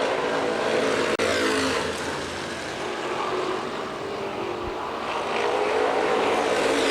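Street stock race cars roaring around Winchester Speedway during a CRA race, a dense continuous engine drone heard from a distance that swells and fades slightly as the pack passes.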